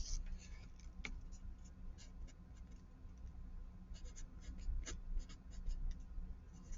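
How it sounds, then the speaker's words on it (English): Pen or pencil writing an equation by hand on paper, soft scratchy strokes and taps at close range, faint and intermittent over a quiet background. "I have to write that equation first."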